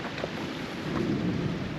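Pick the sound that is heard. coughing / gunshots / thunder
thunder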